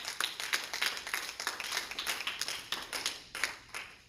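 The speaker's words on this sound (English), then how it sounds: "Clap your hands for Jesus getting up." A church congregation claps hands during a sermon, a faint, quick run of scattered claps with an uneven rhythm, heard on its own without talk.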